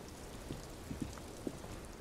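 Soft, steady rain ambience from the video game Disco Elysium: a constant faint hiss with scattered little drips and patters, no voices.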